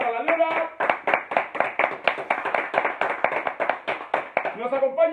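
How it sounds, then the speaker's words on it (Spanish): A live studio audience claps in sustained applause for a television show broadcast from Santiago, Chile, a loud, close burst of many hands with a rapid, uneven rhythm across the whole stretch. "El aplauso, muchachos, para La Leona."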